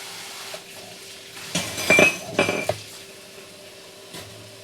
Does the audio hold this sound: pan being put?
yes